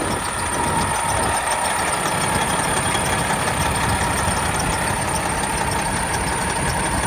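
A warmed-up 2015 Kenworth W900L glider kit daycab truck engine running steadily, a loud, continuous diesel rumble with a rough, even knocking texture and no breaks, heard alone.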